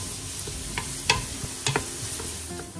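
Chopped onions sprinkled with brown sugar caramelizing in a hot pot, a steady soft sizzle with a few sharp stirring clicks and scrapes, close and moderately loud with no talking.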